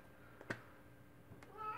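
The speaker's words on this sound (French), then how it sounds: "vous entendez mon chat miauler" Domestic cat meowing faintly from another room downstairs, a short quiet meow followed by a second rising call in a hushed indoor space.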